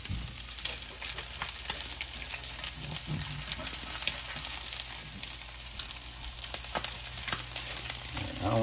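Parmesan-crusted walleye fillets fry in a hot pan, giving a close, continuous crackling sizzle with scattered sharper pops throughout.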